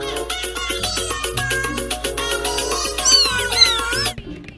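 Repeated cartoonish cat meows from a toy animal, bright and close, several rising and falling calls in quick succession before stopping abruptly.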